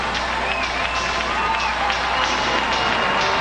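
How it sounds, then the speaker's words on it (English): Hockey crowd at a New Trier versus Marist high school game roaring and cheering after a goal, a dense steady wash of voices and clapping, fairly loud and continuous. "celebrating the goal by Tim Riemann"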